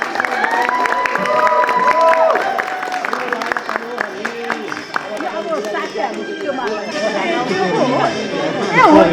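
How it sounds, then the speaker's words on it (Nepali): Wedding guests clapping during a ceremony, rhythmic claps mixed with crowd chatter, singing voices and music-like tones, busy and fairly loud throughout with a swell at the end. "सबैले ताली लगाउनु"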